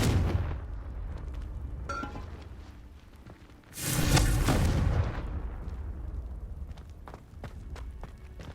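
A Confringo blasting spell goes off in the Hogwarts Legacy video game, a loud burst of explosion that rises abruptly, holds a moment and then fades into scattered thuds and steps.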